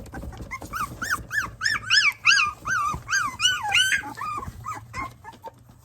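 Three-week-old puppies whimpering and yipping in a series of high, rising-and-falling whines, several overlapping cries in quick succession, close and fairly loud, with no talking.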